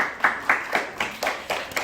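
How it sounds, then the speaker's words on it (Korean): A group of children at a church winter Bible school claps together in a steady, regular rhythm, about four even claps per second, close by with no talking over it. "우리 박수 한번 주세요."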